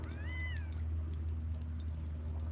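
A kitten meows once, short and rising, outdoors in a Florida garden near the swamps, over a faint low hum and a few light taps.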